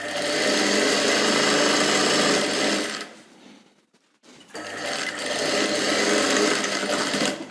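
A sewing machine stitches along the edge of a chudidar in two fast, steady runs of close rhythmic stitching, with a short pause between them.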